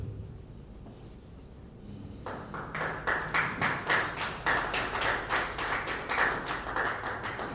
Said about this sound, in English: Can I please see the people of Zoom clap their hands?